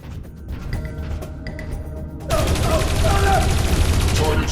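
Gunfire in the video game Dreamfall Chapters, a dense burst of rapid shots that starts abruptly after a quieter stretch and keeps going loudly to the end.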